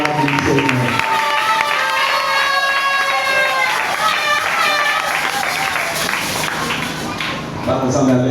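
A church congregation at a tenth-anniversary celebration cheers and acclaims the Lord with sustained crowd noise, voices and applause, dense and continuous throughout with a loud, full texture.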